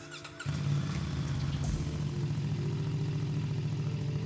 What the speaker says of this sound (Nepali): So let's hear the exhaust.